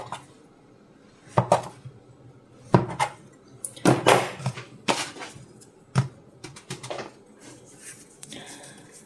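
Cottage cheese dough being cut into larger pieces on a floured surface, giving several separate knife taps and scrapes of varying loudness, close by.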